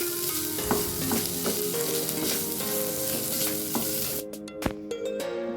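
Fish masala mixture sizzles and fries in a pan while a spoon stirs it, with scraping strokes over a steady crackle, then the frying cuts off near the end after a sharp clack.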